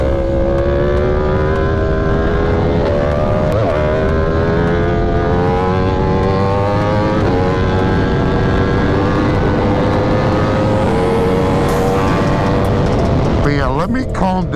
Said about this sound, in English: this bike is not exactly quiet, so you can hear me coming from a mile away on this thing